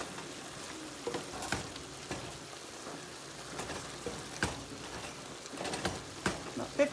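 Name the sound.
food frying in a pan for tacos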